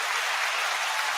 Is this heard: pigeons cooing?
no